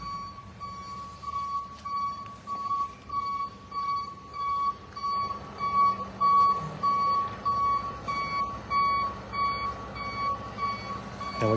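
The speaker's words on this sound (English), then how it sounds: "We're going to move out of our way for the tow truck." A tow truck's reversing alarm beeps in a steady repeating pattern at a police scene, moderately close, over a low background of idling traffic and street noise.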